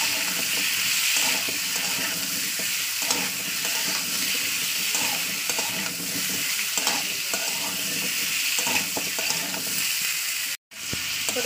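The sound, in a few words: radish and potato frying in oil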